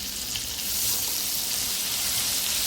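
Ground ginger, garlic and green chili paste fries in hot oil with spices over low gas, giving a loud, continuous, even sizzle throughout with no speech.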